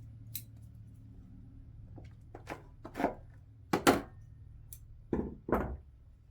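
Pruning shears snip through the long roots of a dawn redwood bonsai during repotting, giving several sharp, close cuts at irregular intervals against a quiet background.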